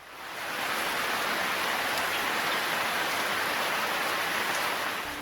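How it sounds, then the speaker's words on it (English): Heavy rain pours down in a steady, dense hiss that swells in over the first half second and then holds loud and unbroken, with no voices. "The heavy rain that ensued made it difficult for him to continue walking."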